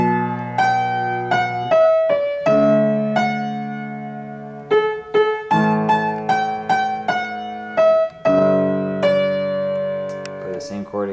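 Piano chords from a song played slowly, each struck and left to ring before the next, close and clear with a melody note on top.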